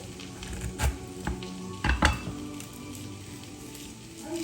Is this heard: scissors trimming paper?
no